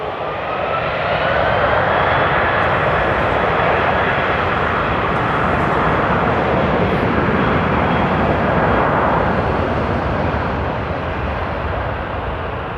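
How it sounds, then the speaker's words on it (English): An Airbus A330 airliner takes off at Frankfurt Airport on a frosty day, a loud, steady broadband engine roar that holds strong and continuous throughout without a break. "before the A330 takes off?"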